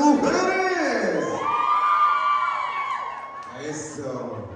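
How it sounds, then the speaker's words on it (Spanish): Women at a wedding reception shout and whoop together before the bouquet toss, a loud crowd of high voices rising and falling with cheers, close and sustained. "A ver, un grito de las mujeres."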